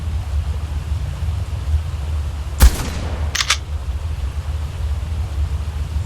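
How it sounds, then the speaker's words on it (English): Ascendant shotgun firing in Ark Aberration: one sharp, loud blast over a steady low ambient hum, followed by short metallic reload clicks, with no talking. "Now I am using an ascendant shotgun that does a ton of damage."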